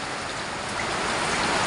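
Heavy typhoon rain from Typhoon Carina pours steadily in Metro Manila, a dense, continuous hiss of downpour on surfaces that stays loud and unbroken throughout.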